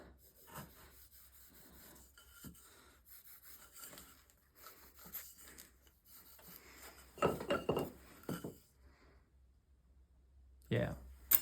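Drawknife shaving an octagonal wooden leg for a foot stool, giving a series of scraping rubs that strengthen into a louder cluster of close strokes near the end, with talk in between.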